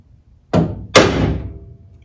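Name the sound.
center punch tapped into car door handle rivet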